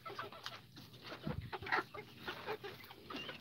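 Chickens cluck and murmur inside a coop, a soft, irregular chorus of short clucks and squawks from several birds, fairly faint and close with no talking.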